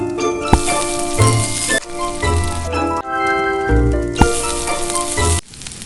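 Fish frying in a pan in The Snow Queen video game, a steady loud sizzle running through the scene alongside a background music score, with a few sharp clicks and pauses between segments.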